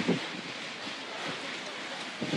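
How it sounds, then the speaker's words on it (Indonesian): A tornado's winds and heavy rain roar steadily and loud as they sweep a house roof off on Jalan Antasari Gang 2 in Samarinda, a continuous wind-blasted rush with no clear breaks. "detik-detik angin puting beliung menyapu atap rumah warga di Jalan Antasari Gang 2 saat hujan deras"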